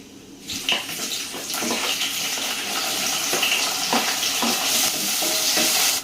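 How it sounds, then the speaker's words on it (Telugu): Onions sizzle steadily in hot oil with cumin and mustard seeds, a dense, continuous frying hiss with occasional light stirring clicks, close and without voices. "ఆనియన్స్ అయితే మంచిగా ఫ్రై అయిపోయాయి."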